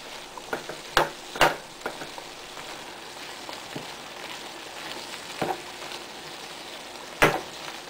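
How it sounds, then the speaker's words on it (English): Tomatoes being stirred into a sizzling mixture in a pan, a soft continuous sizzle broken by sharp scrapes and clacks of the spoon against the pan, close up and without talk. "Just add the tomatoes in like this. Stir it up. Make sure it's like thoroughly mixed in the mixture."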